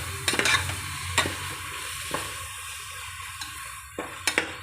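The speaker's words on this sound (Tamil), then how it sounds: "இஞ்சி பூண்டு பேஸ்ட்லாம் போட்டு நல்லா வதக்கிக்கலாம்" Ginger garlic paste sautéing in a pan for egg biryani, a steady close sizzle with several sharp scraping stirs of a spoon against the pan.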